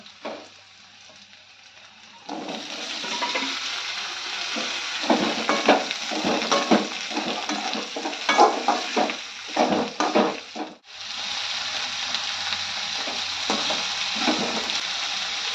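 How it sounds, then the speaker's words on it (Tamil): Beans poriyal being stir-fried with sautéed onions and chillies in a pan, a loud steady sizzle broken by scraping stirs, starting after a quiet opening and briefly dropping before resuming. "இந்த டைமில் நம்ம கட் பண்ணி வேக வச்சு தண்ணி 1/2 டம்ளர் தண்ணி ஊற்றி வேக வச்சு எடுத்து வச்சுருக்க பீன்ஸ் பொரியலை சேர்த்துக்கலாங்க"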